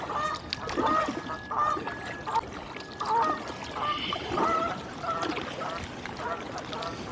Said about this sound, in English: 3 Canada geese in front of me.